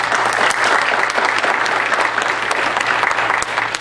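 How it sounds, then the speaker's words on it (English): A forum audience gives the candidates a steady round of applause after opening statements, dense and even clapping that fills the room without any talk over it. "Why don't we give them a big round of applause?"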